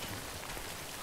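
Steady rain pours in the video game Death Stranding, a dense continuous hiss that fills the whole second with no voices over it.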